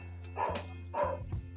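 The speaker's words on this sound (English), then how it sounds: "Can this dog stop? I hope you don't hear the dog." A dog barks several times nearby, sharp woofs in quick succession over a constant low electrical hum.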